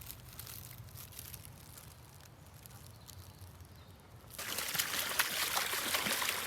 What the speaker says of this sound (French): Donc ça, c'est un ruisseau qui est pas tout le temps présent